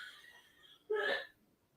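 A single close sneeze, a brief sharp burst after a quiet inhale, then silence.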